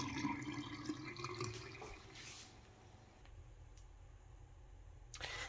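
A household faucet runs in a sink during a bathroom fixture check, a faint, steady watery hiss and trickle with a few small splashes and clicks, heard close but quiet.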